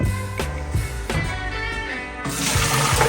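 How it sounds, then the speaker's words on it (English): Soaked beans and their soaking water poured into a strainer in a home kitchen, a steady splashing pour lasting the whole moment with a few sharper knocks, close and fairly loud. "I'm gonna pour the beans back into the strainer."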